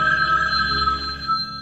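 A telephone rings continuously in a Halloween video game, a steady bright electronic trill with sustained tones that hold evenly throughout, fairly loud and close with no talking.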